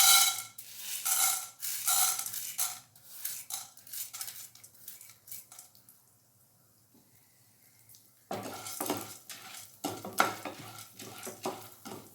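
Chana dal roasting in a pan for a drumstick leaf spice powder, with repeated scraping, stirring and rattling of the lentils against the metal, a quiet pause midway, then brisk stirring resumes close by.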